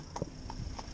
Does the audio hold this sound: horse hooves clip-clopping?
yes